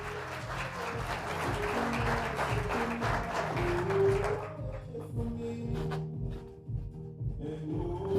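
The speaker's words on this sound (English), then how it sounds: "Please give them a round of applause." An audience at a panel event on AI regulation in the UK and Europe applauds the speakers in a dense wash of clapping for about four seconds, then it fades out over a sustained musical tone.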